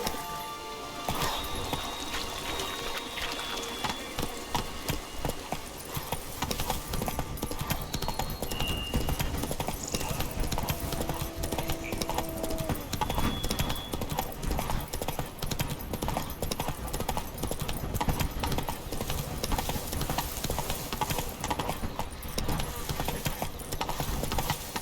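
Horse hooves clip-clopping in a steady rhythmic gait in The Witcher 3 Blood and Wine, with game ambience and music-like tones underneath, no talk in the clip.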